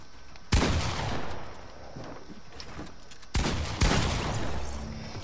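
Video game gunfire cracks out in close, loud shots: one sharp report early, then a pair of blasts near the end, each trailing off into a noisy decay.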